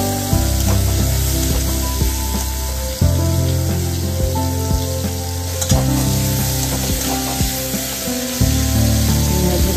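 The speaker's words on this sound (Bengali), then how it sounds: "তেল দিলাম কড়াইতে, কড়াইটা ভালো করে গরম হয়ে গেছে। চিংড়ি মাছগুলো দিলাম।" Prawns hit hot oil in a well-heated wok, setting off a loud, steady sizzle that hisses and crackles throughout, with a few stirring scrapes and clinks from the pan.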